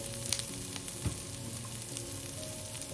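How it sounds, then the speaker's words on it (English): Shallot and carrots stir-frying in a pan for Chinese char siu fried rice, a dense steady sizzle with a couple of quick utensil clacks, close and even in level with no voices. "add the carrots and cook for another 30 seconds or so."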